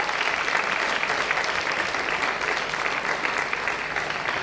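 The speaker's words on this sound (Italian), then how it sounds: "Un applauso, grazie." Audience at a New Year concert in Stia applauding a singer taking the stage, a dense, even wash of clapping from many hands sustained without a break.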